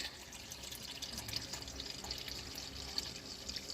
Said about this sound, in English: I'm going to add in about half of my can of beef broth here.